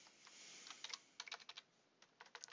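Quick bursts of typing on a computer keyboard while entering C# code, irregular clusters of soft key clicks with short pauses between them, close and quiet, with no talking.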